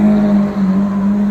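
A Lamborghini Aventador SV supercar drives through a casino square, its engine a loud, steady droning tone that holds briefly as it passes close by.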